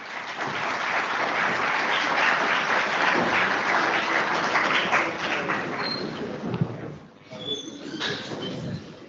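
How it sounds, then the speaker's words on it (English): A large audience at the CSR Amrit Lecture in India gives a loud, sustained round of applause to welcome the speakers, tapering off near the end into scattered claps and room noise. "Let us welcome them with a huge round of applause."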